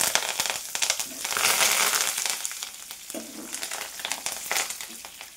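Peanuts frying in hot oil for karam boondi, with curry leaves in the pan: a steady, close crackling sizzle that swells and fades with occasional scraping stirs, and no talk.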